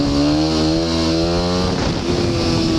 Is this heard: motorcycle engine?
yes